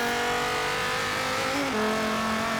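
A car drifts in the racing video game Forza Horizon 3, its engine holding a steady loud drone that shifts pitch partway through, with faint tyre noise underneath.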